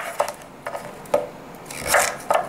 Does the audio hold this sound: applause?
no